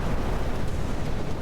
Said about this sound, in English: But if you didn't hear it, a massive explosion in all this